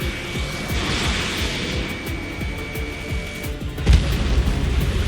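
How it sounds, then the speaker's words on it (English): Missile launch and jet aircraft in the Ace Combat 7 combat flight game: a sustained roaring jet wash with rhythmic low pulses, then a sharp loud burst near the end as the missile fires, no talk. "Mage 1 launching missile."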